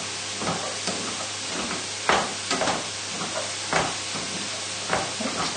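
Leeks are stirred in a hot pan, with a continuous crackling sizzle and repeated scraping strokes of the spoon, several sharper knocks spaced across the stirring.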